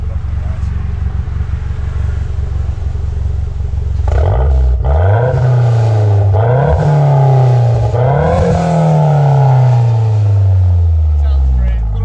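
A 2022-era Mazda Speed 3 fitted with a non-factory aftermarket exhaust idles steadily, then is revved hard several times in loud, close bursts that climb and fall, the last rev held longest before dropping back.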